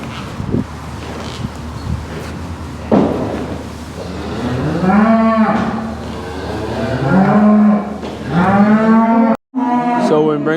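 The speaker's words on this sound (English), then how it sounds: "So when we bring up the cows and calves" Cows and calves moo near a cattle trailer, several long, loud, drawn-out lowing calls close by, coming in overlapping bursts over wind and rustling, with a brief dropout near the end.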